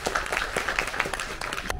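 An audience of teachers and guests at a Guangzhou school exchange event claps in welcome, producing a short burst of scattered, crisp handclaps at close range.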